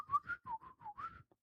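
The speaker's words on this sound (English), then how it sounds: "Bro, I swear I can whistle." A person whistling a short, wavering tune of several quick notes, near and fairly quiet, with no talk.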